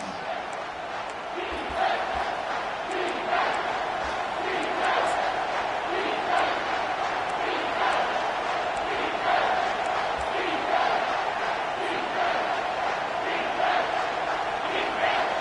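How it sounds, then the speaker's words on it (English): A stadium crowd roaring on third down in a College Football video game, a dense sustained roar with rising and falling surges of cheering, loud and steady throughout, with commentary voices now and then over it. "Decibels rising as the crowd gets behind this defense on third down."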